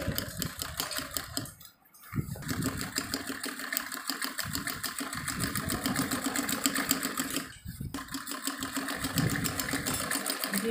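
A sewing machine stitches along a marked line on a shirt sleeve being shortened from full to half length, running in a steady rapid whir with two short pauses before resuming.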